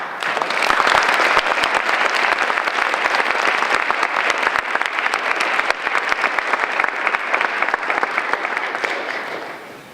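Sustained applause from a lecture audience greeting the speaker of the 2018 Charles W. Hartman Lecture, a dense, steady clatter of many clapping hands holding for the full stretch with no talk over it.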